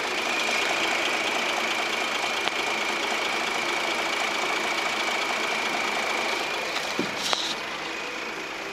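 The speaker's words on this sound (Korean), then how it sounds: "엔진 소리 바로 들어볼게요." Kia K7 six-cylinder engine idling with the engine bay open, a smooth, quiet, steady hum heard up close and alone, with a faint tick and brief clunk near the end.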